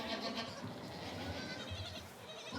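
Kid goats and nanny goats on a Corsican farm bleat in overlapping, continuous calls, close and fairly loud over a dense herd background.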